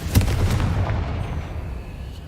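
A Confringo fire spell explodes in Hogwarts Legacy, one close, loud, booming blast followed by a rumbling decay over about two seconds.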